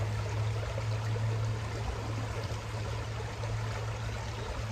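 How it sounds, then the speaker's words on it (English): A forest stream flowing steadily, its broad, even rush of water continuing without a break at moderate loudness. "it's just a steady flow right now. You guys can hear it."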